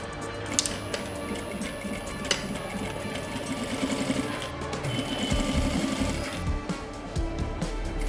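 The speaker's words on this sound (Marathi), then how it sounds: "हे पण ह्याच पद्धतीनं टीप मारून आपल्याला घ्यायचे" A sewing machine stitches a double-strip back pocket in a long, steady run up close, with a few sharp clicks near the start and a busier stretch toward the middle.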